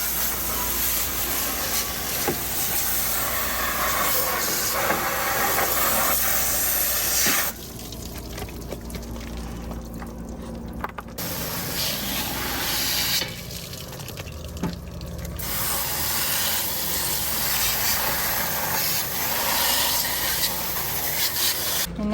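A spray nozzle hisses cleaner inside an RV in long bursts, broken by two quieter pauses, close and fairly soft with no talk.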